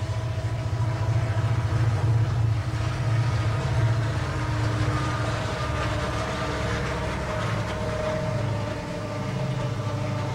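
A train rumbles past at a rodeo Hall of Fame induction ceremony, a steady loud low roar with faint rail clatter holding for about ten seconds, no talk over it.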